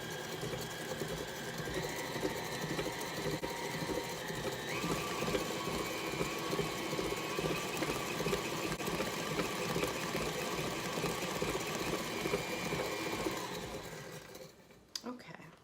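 An electric stand mixer runs steadily through carrot cake batter, its motor whirring with a continuous mechanical drone that shifts pitch as the speed is turned up, then stops near the end.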